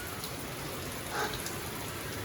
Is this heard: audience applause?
no